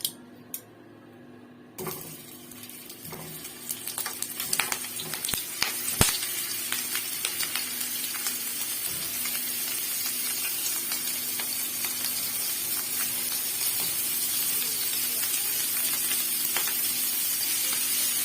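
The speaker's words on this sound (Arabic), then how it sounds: "لما الطاسه بتاعتنا تسخن، هي كده ما شاء الله سخنه، هنبدا ننزل بالكور بتاعتنا واحده واحده" Kofta meatballs go one by one into a hot pan and fry with a steady, close sizzle that starts after a quiet moment and builds to a dense, continuous crackle with occasional small pops.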